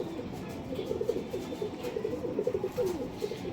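Pigeons coo in a loft, low repeated throaty calls overlapping in a soft steady murmur, close by with no talk.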